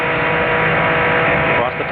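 On-board engine of the number 15 Team Seattle Nissan Lola SRP2 prototype at the 2003 Rolex 24, a loud sustained high-revving drone that dips briefly near the end, with commentary over it.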